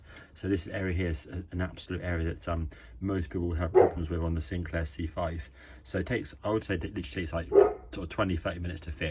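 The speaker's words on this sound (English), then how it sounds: "Excuse the dog in the background" A dog barks repeatedly in the background, with short yips and whimpers, while someone talks nearby about fitting parts during a light restoration of a 1985 Sinclair C5 electric vehicle.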